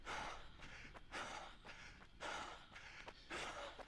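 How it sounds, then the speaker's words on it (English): Heavy labored breathing during a morning run, loud rhythmic gasping breaths in repeated bursts about every second and a half, close to the microphone with no talk. "Heart rate is probably extremely high. Breathing will be labored."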